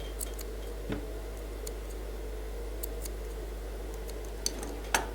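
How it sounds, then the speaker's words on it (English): Scissors snip off thread remnants on a suit being sewn, a few sparse, crisp clicks and snips spaced irregularly over a steady low electrical hum, close and quiet, with no talking. "Then you cut off the thread remnants."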